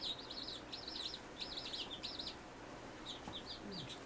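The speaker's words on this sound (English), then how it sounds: "Those poor baby birds." Baby chicks freshly arrived in a shipment chirp in a cluster of high, rapid peeps. Short bursts come and go over a steady low background hum.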